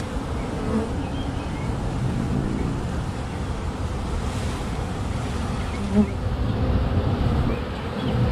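A dense, steady buzzing of a honeybee swarm fills the air, loud and continuous, with a faint low rumble underneath.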